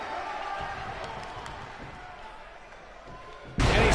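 A wrestler is body-slammed in the WWE 2K19 wrestling video game: a steady murmuring arena crowd, then a sudden loud, full crash of impact right at the end.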